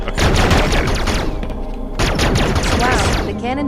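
Rapid cannon fire from a Metroid game (Zero Mission / Return of Samus) bursts in dense, loud volleys with a short lull midway, layered over busy game music and effects.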